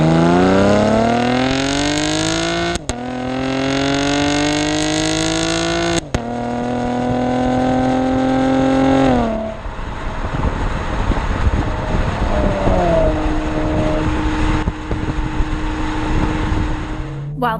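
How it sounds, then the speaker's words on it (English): A 2016 Chevrolet Camaro RS V6 with an 8-speed automatic is driven hard, its exhaust climbing loudly to redline through several upshifts. A lower, steadier drone with wind noise follows as the car cruises. "I enjoyed winding it up to redline to hear that distinctive exhaust"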